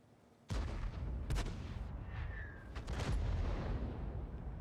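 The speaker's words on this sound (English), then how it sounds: "Might keep an eye on where the artillery shots come from next. That one just sailed over my head." An artillery shot booms in a tank video game: a sharp heavy blast, then more cracks and rumbling impacts and a whistling shell passing over, all loud and close.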